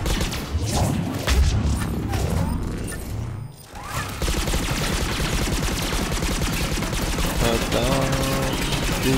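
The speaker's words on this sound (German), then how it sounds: "da höre ich doch so viele Schüsse hier" Dense, continuous gunfire from a Mass Effect 3 firefight rattles loud and close, with bursts of automatic fire, crashes and heavy impacts piling together, a brief dip partway through, then sustained rapid shooting resuming.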